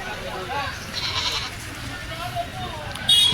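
At an open-air Sunday livestock market at Chilpur Gutta, goats and sheep give scattered wavering bleats amid crowd chatter. Someone speaks over the animals, and a sharper noise comes near the end.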